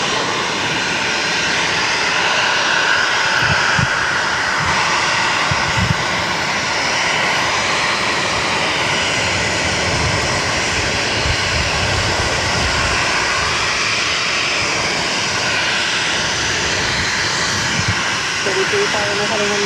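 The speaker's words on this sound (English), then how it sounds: "taking off to Charleston on an E190" A JetBlue Embraer E190 jet takes off from Boston Logan, its engines giving a loud, sustained roar throughout. Radio chatter and a voice are heard faintly beneath the steady engine noise.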